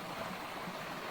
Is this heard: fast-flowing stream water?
yes